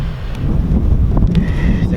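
Steady low wind buffeting a microphone outdoors beside a beehive nuc, continuous rumbling noise throughout with faint rustles.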